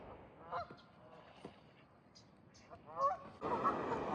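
Geese honk in scattered bursts beside the Sacramento River, faint and somewhat distant, with a rush of whitewater swelling up near the end.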